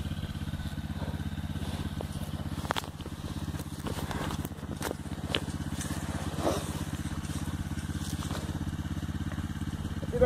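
Off-road motorcycle idling on a hilly dirt trail, a low, fast, even engine putter that continues steadily throughout, with a few faint clicks and knocks above it.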